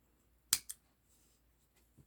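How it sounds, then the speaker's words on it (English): Two quick, crisp snips of scissors cutting off a strand of Red Heart yarn from a crocheted granny square bag, close and clear in a quiet room, followed by a soft faint tap. "Then you're just going to cut that one off."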